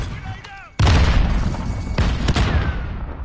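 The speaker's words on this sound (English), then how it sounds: "Grenade out! Grenade out!" A grenade blast booms loud and close in Call of Duty: Modern Warfare, a sharp burst followed by a rumbling, crackling tail with further gunfire pops, after excited shouting.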